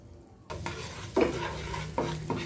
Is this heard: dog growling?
no